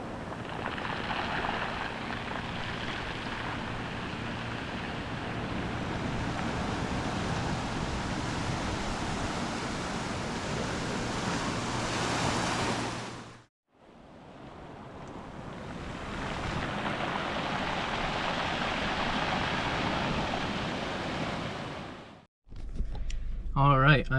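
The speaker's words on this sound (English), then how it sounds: "listen to the water over the rocks" Ocean water washes over rocks on an Oregon coast beach beside a lighthouse, a broad, steady hiss of surf and rushing water. It cuts out briefly twice and ends with a short burst of wind buffeting the microphone.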